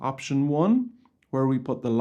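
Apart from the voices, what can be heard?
No distinct noise like a dog, phone or traffic.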